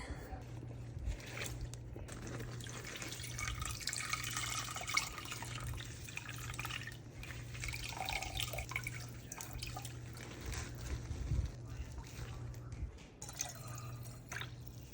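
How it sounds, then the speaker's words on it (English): Mineral-rich vegetable broth drips and trickles steadily from cooked vegetables squeezed in a nut bag, close and wet with a low hum underneath, no talk. "I'm just putting the vegetables in the nut bag and squeezing it"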